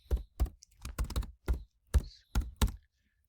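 Someone types on a computer keyboard: roughly eight close, crisp keystrokes in uneven bursts with short pauses between them, and no voices.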